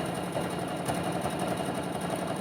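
A hand-cranked sewing machine stitches applique, giving a steady, close mechanical whir that runs evenly throughout with no speech.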